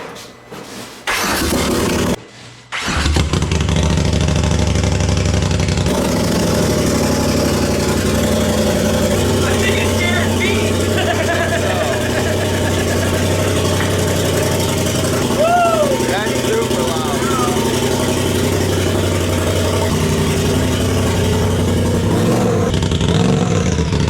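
A 2021 Polaris RZR Turbo S with an Aftermarket Assassins tune cranks, starts and runs with no exhaust fitted, a loud raw engine roar that idles and revs steadily for about twenty seconds, with voices talking over it.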